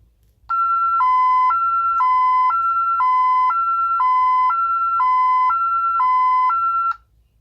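Loud electronic two-tone police panic siren from a home alarm panel, alternating high and low pitches in a steady rhythm for several seconds, then cutting off abruptly.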